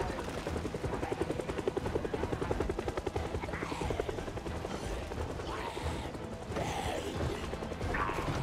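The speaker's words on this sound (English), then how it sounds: "What is this helicopter doing here?" A helicopter in the video game Project Zomboid thumps steadily with rhythmic rotor chop, loud and close, with a few whooshing, sweeping sounds passing through.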